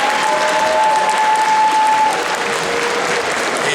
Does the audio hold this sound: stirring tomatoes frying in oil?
no